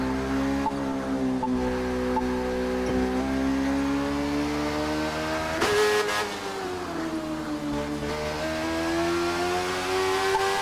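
A Kawasaki Z1000 motorcycle in The Crew 2 cruises on a long road trip, its engine holding a loud, steady droning hum with a brief shift in pitch midway, close up and without speech.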